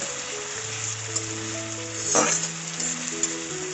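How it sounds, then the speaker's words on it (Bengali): Onion, ginger and garlic paste with spices sizzles steadily in a hot pan, with a brief louder hiss of stirring midway amid soft background music. "এবার এর মধ্যে পেঁয়াজ বাটা দিয়ে দিচ্ছি আদা বাটা রসুন বাটা দিয়ে দিলাম সব মশলাগুলোকে খুব ভালোভাবে একটু কষিয়ে নেব"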